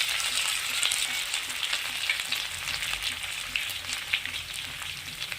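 Cauliflower sizzles and crackles steadily in a hot oil pan while being fried for a cauliflower and potato curry, with a dense close frying hiss and occasional stirring clicks, no talking.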